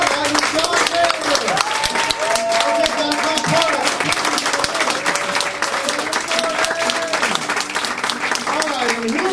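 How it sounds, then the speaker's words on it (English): Improv festival audience in Toronto clapping steadily throughout, a dense continuous wash of applause with a voice or music line running faintly underneath. "So everybody start clapping"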